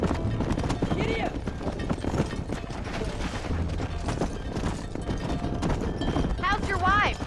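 Galloping horse hooves from the video game Red Dead Redemption pound in a steady, rapid clip-clop rhythm throughout, with voices talking over the hoofbeats.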